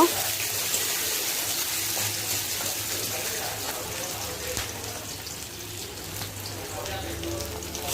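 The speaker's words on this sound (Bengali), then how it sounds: "এখন আমি তেল দিয়ে কাঁচামরিচ আর পেঁয়াজ দিয়ে দিব। এখন একটু ভেজে নিব।" Green chillies and onion frying in oil, a soft steady hiss of sizzling with faint crackles, continuous and fairly close, with low background hum.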